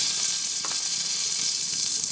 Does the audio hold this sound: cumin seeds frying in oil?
yes